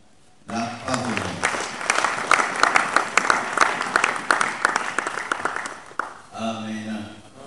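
A church congregation breaks into sustained applause after a reading, a dense wash of claps lasting several seconds, with voices audible as it fades.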